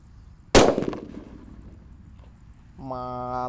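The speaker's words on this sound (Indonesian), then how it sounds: "ini ada mercon yang beledosnya banter ya, namanya petir guys. Kita nyalakan di lubang tanah." A petir firecracker lit inside a hole in the ground goes off with one loud, sharp blast that trails into a brief rumble, followed by quieter background noise and a tonal hum near the end.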